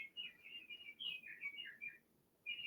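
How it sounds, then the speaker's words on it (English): A bird clock chimes at 7 a.m. with a recorded birdsong, a clear run of chirping tweets that pauses briefly and then starts again, playing alone in a quiet room. "there goes the bird clock"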